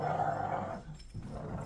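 Dogs tug on a rope and growl in a low, rumbling way that stays steady and fairly loud indoors, with a short dip midway through.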